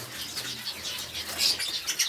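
Gouldian finches in breeding cages flutter in quick, soft bursts of wingbeats, with a few faint chirps mixed in at close range.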